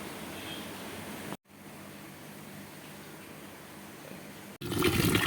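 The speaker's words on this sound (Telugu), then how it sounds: "గోంగూరని ఫస్ట్ మనం ఇలా శుభ్రంగా నీళ్ళల్లో వేసేసుకొని శుభ్రంగా కడిగి" Water gushes and splashes steadily while gongura (sorrel) leaves are washed, close and continuous, broken by two brief pauses, with a louder burst of splashing at the end.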